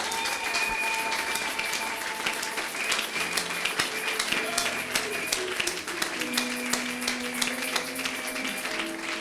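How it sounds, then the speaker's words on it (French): A church congregation applauds and cheers for Jesus Christ, dense continuous clapping from a large crowd with scattered shouts, steady and loud throughout. "Je te demande de l'acclamer."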